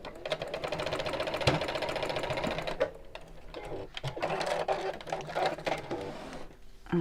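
A sewing machine stitches across fabric in rapid, rhythmic mechanical bursts, close and fairly loud, with short pauses between runs.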